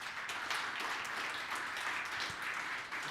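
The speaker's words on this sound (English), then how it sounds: "I want to give them another round of applause" An audience applauds after a talk on subsurface energy storage and mineral sequestration, sustained even clapping from a crowd that holds steady before easing off slightly at the end.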